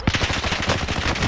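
Rapid automatic gunfire in the video game Call of Duty: Warzone, a dense stream of cracking shots in quick rhythm, loud and close throughout.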